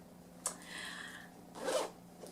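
Two quick zipper pulls on a bag, the first a longer steady rasp, the second a brief louder burst, close by with no talking.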